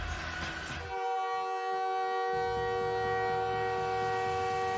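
Minnesota Wild NHL goal horn, a loud sustained train-style horn chord that blares continuously, with crowd noise underneath and a brief break in the low rumble.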